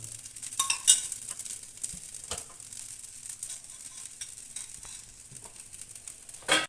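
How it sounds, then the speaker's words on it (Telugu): Idli pieces fry in ghee in a pan, giving a soft continuous sizzle with occasional spatula scrapes and light clinks of a pan, close and alone. "ఇప్పుడు కొద్దిగా గీ యాడ్ చేసుకుంటూ ఫ్రై చేసుకోవాలి"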